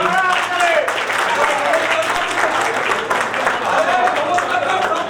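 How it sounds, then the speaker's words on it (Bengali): A reunion crowd of former college students gives a loud round of applause in a hall, dense clapping that holds steady for several seconds while a voice carries over it. "তার জন্য একবার জোরে হাততালি।"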